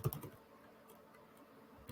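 Computer keyboard typing in a quiet room, a brief cluster of keystrokes at the start and another near the end, with faint soft clicks between.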